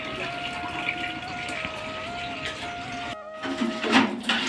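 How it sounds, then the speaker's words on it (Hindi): Water fills from a village tap, with a steady, slightly wavering tonal rush from the running stream and a brief break before it resumes. "अभी पानी भरा तो करा"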